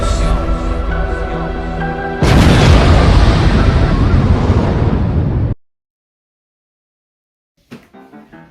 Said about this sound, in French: l'explosion.